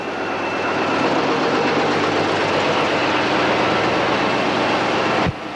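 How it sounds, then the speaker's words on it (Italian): Inside the engine room of a Gailtalbahn locomotive on the Villach to Kötschach-Mauthen line in Austria: a loud, steady engine roar fills the space, ending with a sharp click and a slight drop in level. "Ecco la cabina motore della locomotiva."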